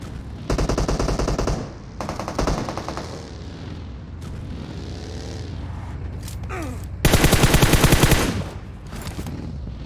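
Machine gun fire in the battle royale video game PUBG Mobile, two loud sustained bursts of rapid automatic shots early, quieter action sounds in between, then a third heavy burst, all close and sharp.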